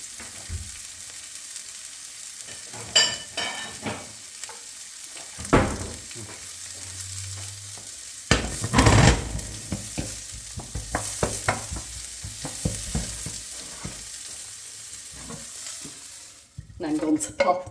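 Onions frying in a pan give a continuous close sizzle, broken by occasional stirring clatters and scrapes, with no talking.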